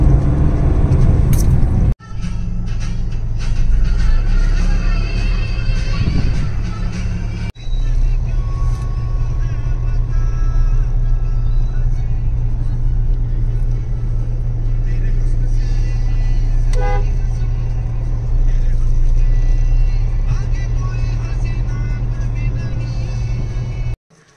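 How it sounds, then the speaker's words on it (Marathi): A car driven fast along a road gives a steady, loud low rumble throughout, with a few abrupt cuts and occasional horn toots from traffic. "प्रतीकने फार स्पीडमध्ये गाडी चालवल्यामुळे आम्ही खूप लवकर आलो."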